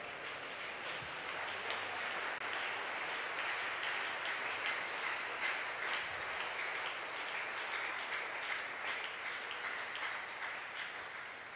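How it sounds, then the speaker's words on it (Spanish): A church congregation applauds the Lord during a Spanish-language service, a steady, even wash of many hands clapping that holds without pause, with no voices over it. "Dele ese aplauso al Señor."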